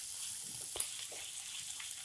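Ginger garlic paste fries with onions, giving a soft, steady sizzle with faint stirring clicks and one brief louder crackle partway through. No voices.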